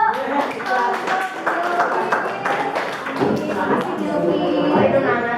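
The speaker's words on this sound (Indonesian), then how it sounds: "tepuk tangan dulu" A classroom of students claps together at the close of a biology lesson on bones, a steady patter of hand claps running throughout with voices and chatter mixed in over it.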